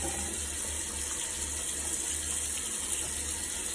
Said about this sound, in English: you're going to want to wash your hands thoroughly with antibacterial soap